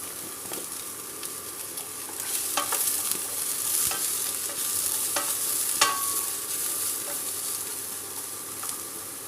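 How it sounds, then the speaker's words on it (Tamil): Small onions sauté with salt in a pan for Salem-style tomato sambar, giving a continuous soft sizzle broken by occasional scraping stirs and light clicks of a spoon, with no talking. "வெங்காயம் வதங்கிறதுக்கு கொஞ்சம் உப்பு போடலாங்க"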